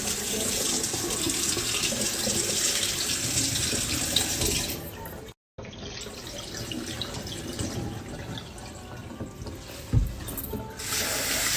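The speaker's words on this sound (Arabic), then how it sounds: "أنا بضل بغير المي على الرز لبين ما تصير المي صافية" Tap water runs continuously into a bowl while rice is rinsed in a kitchen sink, a steady close hiss with a brief break and a small splash near the end.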